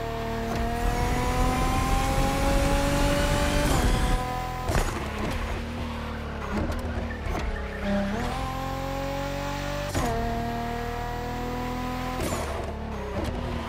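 A Liberty Walk Nissan GT-R races in The Crew Motorfest, its engine revving loud and close with rising gear pulls, sharp shift breaks and tire squeal, with no voices over it.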